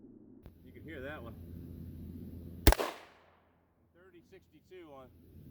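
A single sharp rifle shot from a 20-inch AR-15 strikes an armor plate, a loud crack ringing out midway, with a voice talking before and after it.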